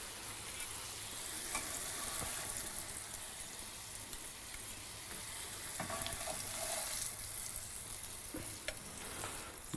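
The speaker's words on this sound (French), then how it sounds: "Et on laisse bien saisir du premier côté." Yellow sardine with spices searing in a hot pan, a steady close sizzle and crackle of frying fish with a few faint clinks, no talking.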